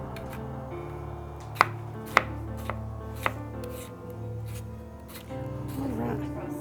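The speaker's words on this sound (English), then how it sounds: "we've just about got these all chopped" Green tomatoes being chopped for a cake, with four or five sharp knife strikes on a cutting board spaced irregularly over a steady low room hum, close and clear.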